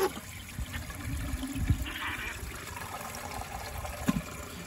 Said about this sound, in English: We'll empty the rest of the water in the tank too.